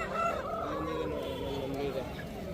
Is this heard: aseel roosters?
yes